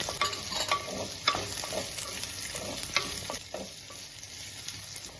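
Chopped small onions and a big onion fry in a pan with a steady sizzle, and a spoon stirs them with repeated close scrapes and taps, with no one speaking.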